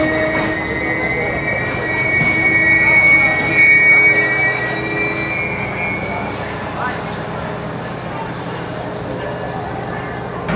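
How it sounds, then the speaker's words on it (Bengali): A Dhaka–Chilahati passenger train pulls into a station with a loud, steady rolling rumble and drawn-out high-pitched wheel squeals, while voices carry in the background. "এই দেখেন ঢাকা থেকে কিন্তু ছেড়ে আসলো এই ট্রেনটা"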